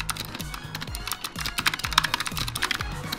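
Fast, steady typing on a tiny 60% RGB mechanical keyboard, close up, each keystroke a crisp click with a low thock, alone with no talk.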